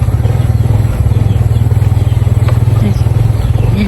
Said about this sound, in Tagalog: Ayan yun, motor ni Raymond.